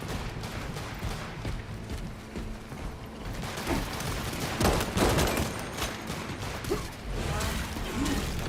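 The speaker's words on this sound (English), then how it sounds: "Somebody's shooting me around here." Video game gunfire rattles in dense bursts through a busy, noisy mix of mechanical clatter and effects, loud and continuous with no clear speech over it.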